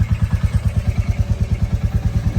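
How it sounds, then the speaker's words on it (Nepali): A motorcycle engine idles while warming up, a close, steady low thumping pulse beating evenly and rapidly with no revving throughout. "बाइक वार्मअपमा छोडेको"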